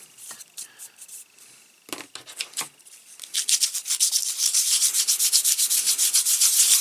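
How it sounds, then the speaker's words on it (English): Rhythmic scratchy sanding of a wooden clock surface: a few scattered strokes at first, then steady, louder back-and-forth rubbing strokes close by. "I will go over with a little bit of a sanding."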